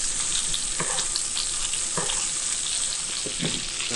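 A steak fries in butter and oil with garlic and thyme in a pan, making a loud, constant close-up sizzle with scattered crackles and spatters throughout.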